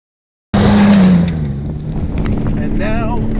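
A 600 HP Ford Raptor truck driving in 4x4 roars in abruptly after half a second of silence, loud and close, then settles into a steady engine rumble with tire and road noise while someone talks over it.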